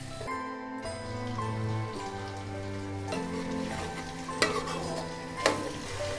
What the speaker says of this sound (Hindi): अब हम कलेजी डाल देंगे, इसको भी अच्छे से फ्राई कर लेंगे